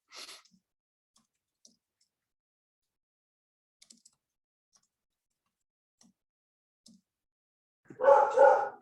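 A dog in a quiet home office gives a short burst of barking near the end, after long near-silence broken only by faint ticks and clicks.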